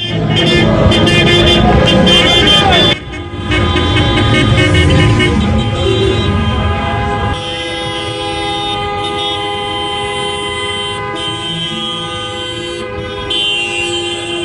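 Cars in a convoy during a street championship celebration in Düzce, sounding loud sustained horns that blare and overlap close by, with honking continuing steadily throughout.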